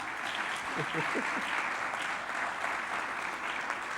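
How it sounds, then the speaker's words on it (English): Steady applause from an audience at a closing ceremony of a leadership conference, moderately distant and continuous, with a brief murmur of voices early on. "Give them a round of applause, please."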